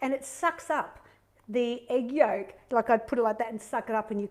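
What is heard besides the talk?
No everyday noises stand out.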